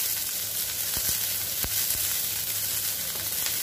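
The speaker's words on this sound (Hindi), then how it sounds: "और अब इसमें हम प्याज और मिर्ची डाल देंगे और हम अपनी इडलियों को फ्राई करेंगे।" Idlis frying in hot oil with onion and chili, a steady loud sizzle throughout with a few soft clicks and pops as the pieces are stirred.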